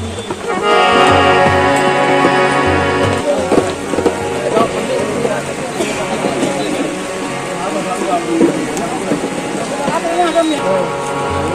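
Rain falls steadily on a crowded outdoor Vishwakarma Puja gathering in Bihar, a continuous loud hiss mixed with devotional music and people talking nearby.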